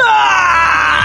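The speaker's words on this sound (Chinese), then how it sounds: "为了验证穆若娜的话，外面突然响起了一阵的惨叫声。" Screaming sound effect from people outside in a night scene after minefield explosions, a loud sustained cry of several voices wavering and sliding down in pitch, filling the whole moment without speech.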